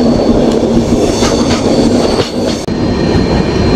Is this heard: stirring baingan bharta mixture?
no